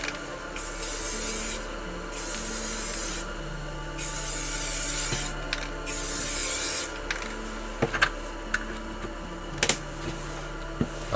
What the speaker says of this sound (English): I'm going to mist a little bit of a lighter blue in here and there.